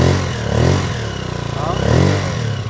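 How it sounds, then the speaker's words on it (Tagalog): A Yamaha TMX 155 motorcycle, being upgraded to 200cc, idles loudly with a rough, noisy engine clatter, steady and close throughout with slight surges in level. "pakinggan muna natin yung andar nito. Yan o. Kaya lang medyo maingay na itong makina"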